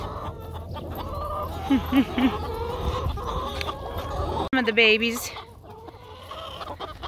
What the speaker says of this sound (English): Chickens! Baby chickens! Baby chickens!